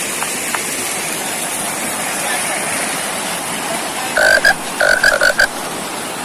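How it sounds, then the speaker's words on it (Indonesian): Frog croaking near a stream, a run of short bursts in the last two seconds, each dropping out quickly, set over a steady wash of rushing water. "Suara kodok."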